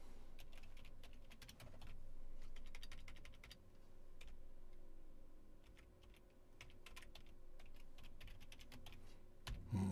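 A computer keyboard being typed on while a print statement is written out, giving soft, quick, irregular keystrokes in clusters, quiet and close with no talking.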